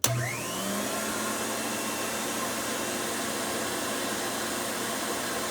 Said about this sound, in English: show you just how smooth the suction motor runs